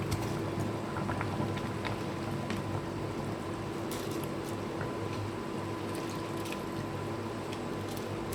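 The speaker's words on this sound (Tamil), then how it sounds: "எல்லா இன்க்ரீடியன்ஸும் நல்லா கொதிக்க ஆரம்பிச்சிருச்சு" A pot of mutton biryani with rice bubbles and simmers steadily, a soft, constant fizzing gurgle with a faint low hum behind it.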